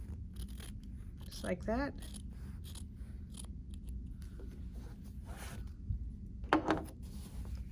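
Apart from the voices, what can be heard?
scissors cutting fabric for quilting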